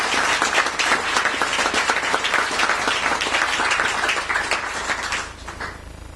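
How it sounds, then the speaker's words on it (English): Sustained applause from an audience at a Philadelphia Yellow Jackets press conference, dense steady clapping that continues for several seconds before thinning and fading toward the end. "Big round of applause for a gentleman who has taken over the community and has done an amazing job"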